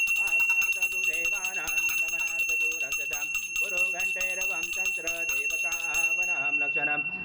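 A ritual hand bell rings steadily during a Hindu puja and abhishek, its bright sustained tone carrying under chanted Sanskrit mantras before fading near the end.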